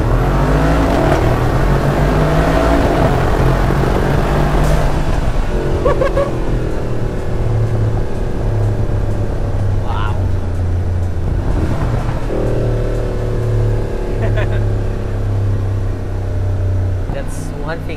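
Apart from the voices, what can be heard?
Vorsteiner widebody Mercedes-AMG G63 exhaust revving, accelerating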